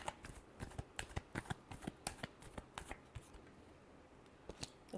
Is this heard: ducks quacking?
no